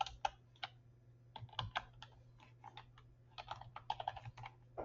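Quick bursts of keystrokes on a computer keyboard, typed in short irregular runs with brief pauses, close and fairly clear over a low steady hum.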